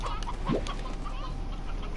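Chickens clucking in the video game Slime Rancher, a short rising cluck standing out near the middle over a steady bed of game ambience and music, with other faint bird sounds around it.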